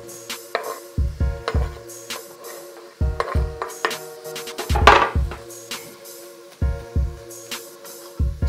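Chopped onions going into a pan of cooking chicken and peppers, heard as a series of close clattering knocks and scrapes in uneven bursts, with a short louder rush midway and quiet gaps between.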